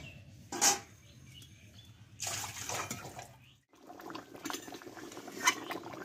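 Bengali-style chicken curry simmers in a pot with a little water, uneven bursts of bubbling and spoon-against-pot clatter broken by a short quiet gap.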